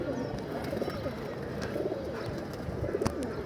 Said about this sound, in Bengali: অল্প কিছু কবুতর রোদে আছে বাকি কবুতরগুলো পেয়ারিংয়ে আছে